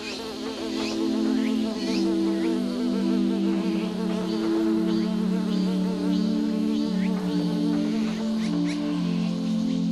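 An insect flies close beside a red-legged digger wasp's burrow as the wasp drags a paralyzed katydid inside, giving a continuous loud buzzing hum that wavers in pitch as it moves, with no talk.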